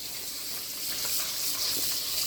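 Salt mackerel pieces being rinsed with running water in a kitchen basin, a steady close hiss of flowing water with faint splashes and no talk.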